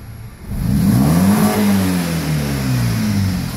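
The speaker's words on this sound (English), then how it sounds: "Give it a stab on the throttle." A BMW 320i with worn valve stem seals revs sharply on a stab of the throttle, engine pitch rising quickly then falling back toward idle, loud and close.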